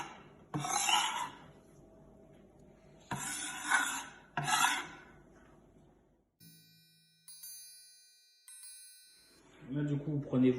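Egg yolks are rubbed through a small mesh sieve in three scraping bursts, close and rasping, followed by a bright metallic ring and a voice at the end.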